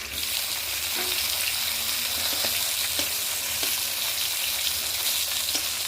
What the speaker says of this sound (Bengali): এর মধ্যেই বেগুনটা একটু ভাজা ভাজা হোক।